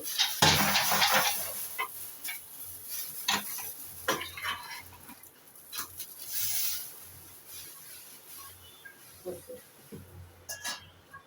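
Chicken curry with potatoes being sautéed and stirred in a pan, with irregular scraping and clattering spoon strokes over a soft background sizzle, fairly quiet and close.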